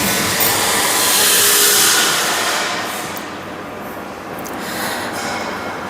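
A loud, steady roaring hiss of a manual sandblasting machine running in its blasting chamber with a rotating table, with a rushing air-blast texture that swells and eases slightly.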